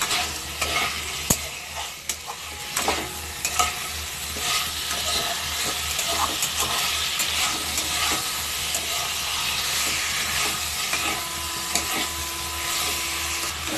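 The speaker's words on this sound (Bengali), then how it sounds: "আরও এটাকে 2 মিনিট মতো কষে নেব মশলার সাথে আলুটাকে।" Boiled potatoes frying and being stirred with spices in a pan for Bengali-style dum aloo, a steady loud sizzle and hiss throughout with repeated sharp scrapes of a utensil, no voices.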